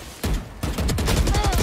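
Rapid gunfire in Valorant: loud, close bursts of shots in quick succession that fill the short moment, with no voices over them.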